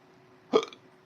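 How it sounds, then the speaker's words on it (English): A single short, abrupt hiccup from a person, close and fairly loud against a quiet background. "Oh, I got the hiccups."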